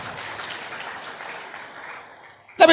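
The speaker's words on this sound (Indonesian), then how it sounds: "Lahirkan orang-orang hebat yang setuju berikan tepuk tangan." A church congregation claps during a sermon; the dense, moderate applause fades steadily over a couple of seconds before a sudden louder burst at the very end.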